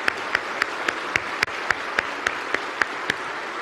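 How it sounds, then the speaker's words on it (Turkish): Audience applause for a town mayor at a school breakfast project event, a sustained wash of many hands clapping with regular, evenly spaced louder claps cutting through, steady and close with no voices. "Kendisini alkışlıyoruz."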